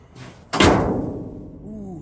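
Driver's door of an old, rusty Chevy Viking truck slammed shut once with a heavy, close metallic boom that rings and decays, with faint talk after.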